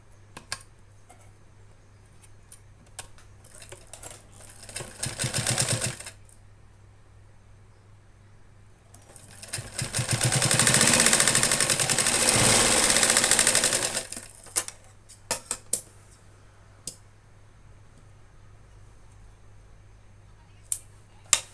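A sewing machine joins fabric for a blouse back-neck design in two close bursts, a short one and then a longer steady run, with faint clicks and handling noise in between.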